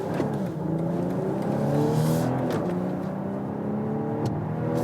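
A 2020 BMW X6 40i accelerates in sport mode, its engine note climbing steadily through the gears, heard from inside the cabin as a continuous, moderately loud rising drone with light road whir.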